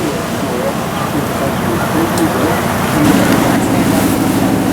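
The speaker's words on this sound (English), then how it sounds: "we're on the City Hopper, taking a cruise down the river" A City Hopper ferry cruising down the Brisbane River, with a steady low engine drone and broad water rush lasting throughout, swelling slightly toward the end.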